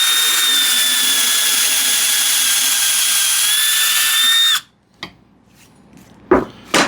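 A power drill whines steadily as it bores into wood for about four and a half seconds, then cuts off, followed by a few faint clicks and rustles.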